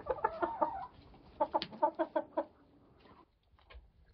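Roosters kept in a garage cluck in short rhythmic bursts, a quick series of throaty calls followed by a second volley, fairly close and moderately loud, trailing off into quiet.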